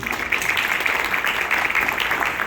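A crowd claps in a dense, even burst of applause that holds steady for a couple of seconds.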